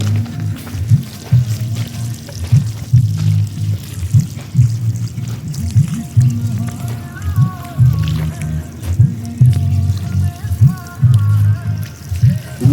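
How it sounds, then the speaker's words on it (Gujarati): Irrigation water pours and splashes steadily onto a chickpea field with a low, churning rumble, continuous throughout with occasional sloshing surges. "ચણામાં પાણી નાખવા માંડ્યા"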